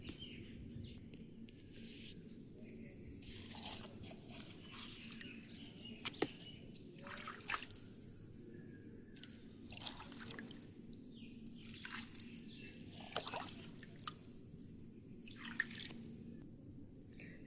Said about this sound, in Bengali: এখন আমি একটু জল ফেলে দেব